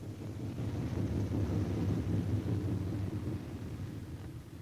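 A damaged B-17 bomber comes in to land with one engine dead. Its remaining engines give a low, continuous rumbling drone with wind noise.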